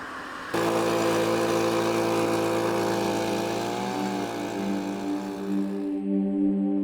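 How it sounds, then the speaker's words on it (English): A leaf blower's small engine drones steadily and loudly with a buzzing motor tone, shifting pitch slightly before cutting off near the end. "The soothing sound of leaf blower."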